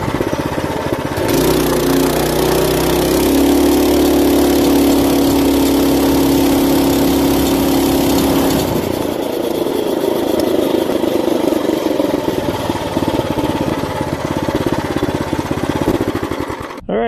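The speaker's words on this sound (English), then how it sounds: "Zero to 30, Mega Moto 212, Tillotson 212E." A Mega Moto 212 minibike with a brand new stock Tillotson 212E engine runs loudly, its small single-cylinder note climbing steadily during a zero-to-30 acceleration run before shifting to a rougher, steadier drone, with no talking.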